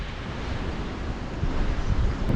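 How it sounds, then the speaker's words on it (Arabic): Sea surf at Port Said beach, a continuous broad wash of waves mixed with wind buffeting the microphone, swelling louder toward the end, no voices. "وصلنا للهدوء والاستجمام، بحر بورسعيد."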